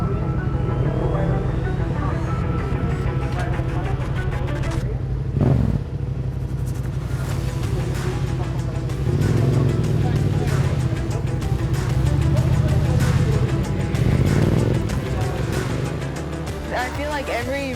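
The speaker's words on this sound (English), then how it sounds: "it's an R7, and it sounds so nice and throaty and deep." A Yamaha R7 motorcycle engine gives a deep, throaty, steady drone that swells slightly, with talking over it.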